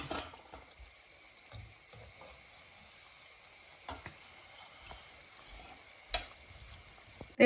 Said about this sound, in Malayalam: ഇപ്പതേ നമ്മൾ ചിക്കൻ ഫ്രൈ ചെയ്യാൻ തുടങ്ങിയിട്ട് മൊത്തം പത്ത് മിനിറ്റ് ആയി